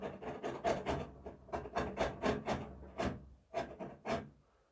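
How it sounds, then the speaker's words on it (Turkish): Lemon zest is grated on the finest side of a grater for homemade lemonade, a series of close, rhythmic rasping strokes, about a dozen short scrapes with brief pauses, fading at the end. "limonun dış kabuğunu rendeliyoruz rendenin en ince tarafıyla rendeleyeceğiz"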